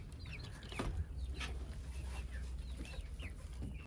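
Naked neck chickens cluck in a backyard coop, a run of short soft clucks and calls repeating every half second or so over a steady low hum.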